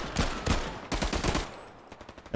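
MG42 machine gun fire in the wartime shooter Hell Let Loose rattles in loud close bursts, with a short break between them, then fades to fainter distant shots.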